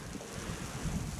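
Chilly breeze buffeting an outdoor microphone at a Little Bighorn Battlefield visitor site on a sunny day of about 45 to 50 degrees, a steady low rushing roar with a few soft gusts and no talking.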